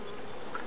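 A brief, steady hum of many small 4.9 downsized honey bees swarming close around an opened hive during a midsummer inspection, with no talking.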